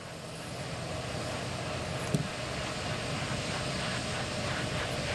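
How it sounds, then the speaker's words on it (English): A space shuttle's auxiliary power unit huffs before the STS-135 launch, a steady, dense mechanical rushing drone that holds at an even level throughout with no voices over it. "Huffing noise you hear in the background is the auxiliary power unit that provides the muscle to move the engine nozzles during"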